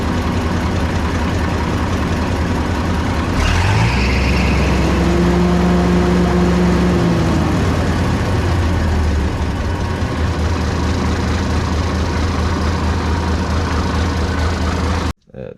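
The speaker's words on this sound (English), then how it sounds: "I pulled out the thermostat, been running without one, and it's not overheating anymore." A Caterpillar D6B bulldozer's D333 diesel engine, running without a thermostat, rumbles steadily at close range, a loud low drone throughout with a brief shift in tone partway through, then cuts off abruptly.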